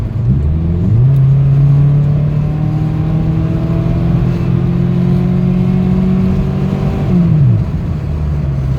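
A Subaru WRX accelerates hard on a test drive, its engine note climbing steadily and holding a loud, close, sustained whine before the revs drop off near the end; no voices.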